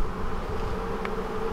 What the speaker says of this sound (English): This is swarm from this nucleus.